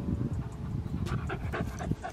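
A dog out on a walk pants rapidly and rhythmically close by, with a few faint whimpery breaths mixed in and no speech.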